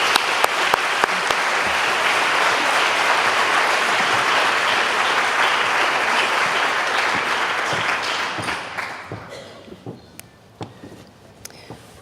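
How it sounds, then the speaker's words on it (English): Loud applause from the audience at a high school senior recognition night, steady for about eight seconds, then tapering off into a few scattered claps. "Please join me in a round of applause"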